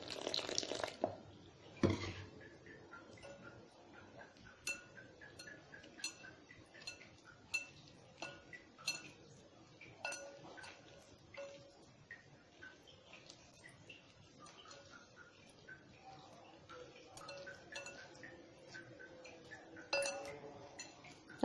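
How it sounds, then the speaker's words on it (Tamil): A spoon clinks against a bowl while mushroom batter with salt and water is mixed, giving irregular light taps and wet stirring sounds, soft and close. "நல்லா மிக்ஸ் பண்ணி விட்டுக்கலாம்."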